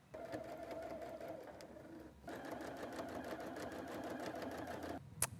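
Sewing machine stitching straight quilting lines about 3 to 4 inches apart across a quilt top, a steady close whir that pauses briefly near the middle and then runs on, with no talking.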